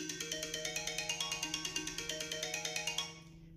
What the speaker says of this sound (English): I'll call the test phone to check the stability of the connection